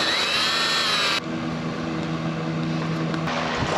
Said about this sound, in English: because this is cement board, I'm just going to pre-drill it